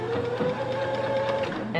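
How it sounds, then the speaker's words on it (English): A sewing machine running a straight stitch forward on a storage project bag, producing a steady, loud mechanical whir with a continuous tone and fast rhythmic needle clatter, close by. "I'm gonna do a straight stitch."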